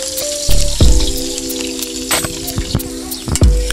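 Green chillies hit hot oil with spices for a village-style country chicken biryani. A loud burst of sizzling flares up and keeps crackling close by, with utensil clinks and a few fresh spurts toward the end. No voices are heard.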